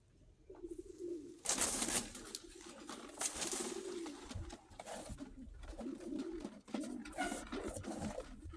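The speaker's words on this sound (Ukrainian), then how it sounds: "Така гарна дуже голубка." Female pigeon of the Krymachky breed cooing in low, repeated throaty murmurs, close by, with brief bursts of wing flapping or rustling in between.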